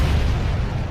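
A chemical plant explosion equal to about 1,400 pounds of TNT, a deep, rumbling blast with heavy low-end roar that fills the entire moment without letting up.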